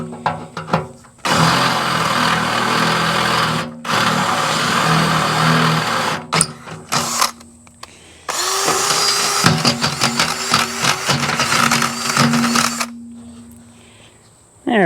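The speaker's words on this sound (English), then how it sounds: "because the batteries are old and the drill likes to eat them." A battery drill boring holes in the steel loader bucket of a Farmall tractor, heard as several loud, whining bursts separated by short pauses, the later run rising and grinding as the bit bites through metal.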